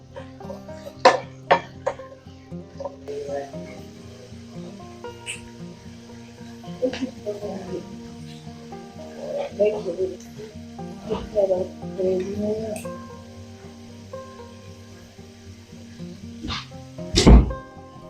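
Food sautéing in a pan for a home Thanksgiving dinner, a steady soft sizzle running underneath occasional utensil clinks, a dog barking and a sharp clatter near the end.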